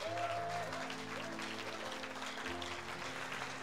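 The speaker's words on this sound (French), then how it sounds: "Est-ce que quelqu'un peut applaudir le royaume que Jésus nous propose?" Steady applause from a worshipping congregation at a French-language church service, a low, even wash of many hands clapping, heard at a distance over sustained organ-like chords.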